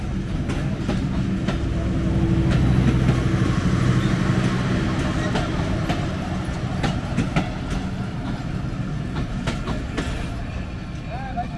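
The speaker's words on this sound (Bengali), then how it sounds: "ট্রেনটি এখনই হাইডিং সেতু অতিক্রম করতেছে" A train crossing the Hardinge Bridge at Paksey rumbles steadily with a repeating clickety-clack of wheels over rail joints, loud and continuous, with faint voices in the carriage.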